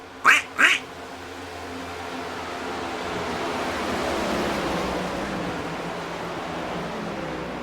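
Two quick, close duck quacks ring out right at the start, then give way to a steady broad rushing roar that fills the rest of the stretch, with no talking.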